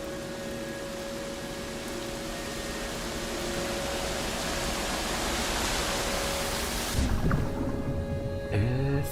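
Video game waterfall plunging into a basin, a constant loud broadband roar with faint tonal hum, broken near the end by a few brief louder sounds.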